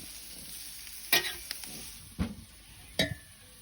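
Food sizzles steadily in a hot wok on a Weber barbecue, cooking a beef, prawn, vegetable and noodle stir fry, while a utensil scrapes and knocks against the pan three times.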